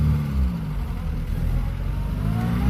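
A cranky old 1948 Peugeot 202 rumbles under throttle from inside the car while driving, its low engine drone rising and falling in pitch the whole time, loud and steady, with no talking.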